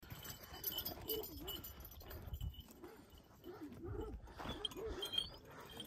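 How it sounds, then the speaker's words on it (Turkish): Herd dogs approaching across open ground, with faint barks, whimpers and scuffling movement at a distance, low in level and uneven throughout. "Şu diğer sürü köpekleri buraya yaklaşıyorlar."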